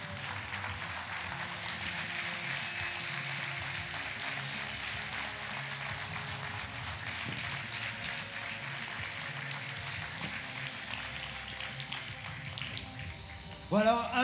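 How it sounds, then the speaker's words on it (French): An audience at a French town mayor's New Year address applauds the people on stage. The clapping is broad and steady and carries on without a break, with a few sharper taps and a louder burst near the end. "On peut encore les applaudir."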